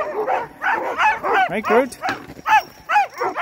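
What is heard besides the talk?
dog barking after a run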